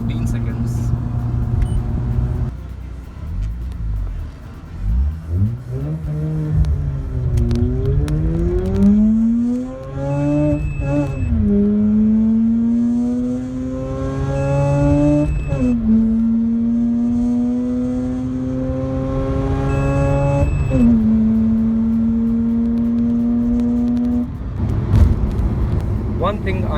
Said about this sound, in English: the naturally aspirated rotary engine has to be revved high to access the most excitement